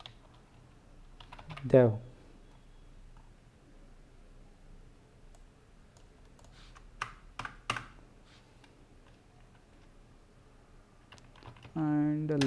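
A computer keyboard clicks faintly as a command is typed, sparse light keystrokes in a quiet room, with someone speaking briefly at the start and again at the end.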